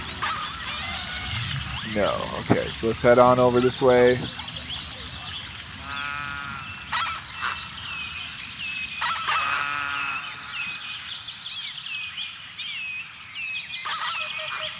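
Geese and other birds in a video game city-builder aviary, honking and calling in short repeated bursts over faint ambient chirps, with someone talking between the calls.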